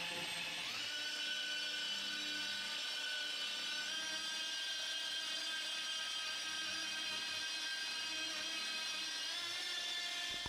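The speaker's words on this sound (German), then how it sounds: "vor allen Dingen bei so einer Rotationspoliermaschine, da haben dann auch die Qualitätsbänder zu kämpfen" A rotary polishing machine runs steadily over masking tape on car paint, a constant high whining drone that holds loud and unbroken throughout, with no talking.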